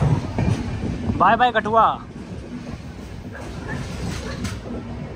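The Hemkunt Express pulls out of Kathua railway station, a brief wheel squeal rising over the rumble of the rolling coach while someone talks over the steady train noise.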